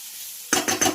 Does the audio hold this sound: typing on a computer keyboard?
no